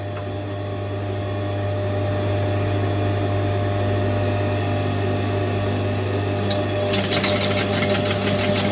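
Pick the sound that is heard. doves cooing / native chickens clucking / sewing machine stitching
sewing machine stitching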